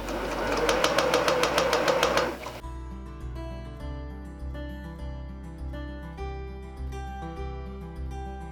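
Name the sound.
sewing machine sewing fabric strips together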